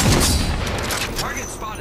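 Rapid gunfire in Apex Legends during a firefight, dense bursts of shots and booms loud and close, with a character's voice speaking over them.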